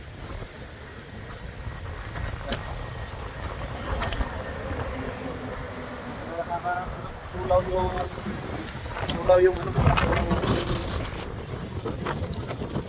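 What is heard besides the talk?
strong wind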